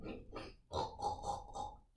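A group of people voice a pig's oink in imitation, several snorting grunts in a row, close and fairly loud, during a farm-themed children's yoga session.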